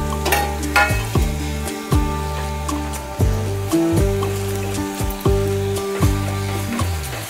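Chunks of pumpkin and drumstick are stirred as they fry in a pan, giving a steady loud sizzle broken by regular scraping strokes of the spoon, with no voices.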